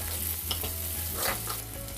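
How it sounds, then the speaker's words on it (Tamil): Three large chopped onions sauté in plenty of oil for a fish curry, giving a steady close sizzle with light stirring scrapes. "கட் பண்ணின 3 பெரிய வெங்காயம் சேர்த்து வதக்குங்க"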